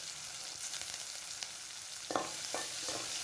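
Green chillies and curry leaves sizzle steadily in hot oil for a village-style dried anchovy and lablab bean curry, with a few louder crackling bursts and stirring clatters near the end.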